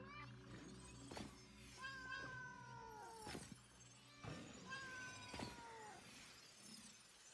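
A pet cat meows several times indoors, drawn-out calls repeating every second or two and rising and falling in pitch, with sharp clattering noises in between. A voice speaks briefly.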